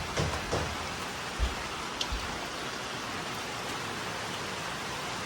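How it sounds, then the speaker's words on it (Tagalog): Steady rain falls on a rainy afternoon, a constant broadband hiss with a few soft knocks and drips near the start. "Maulan na ang hapon ngayon guys."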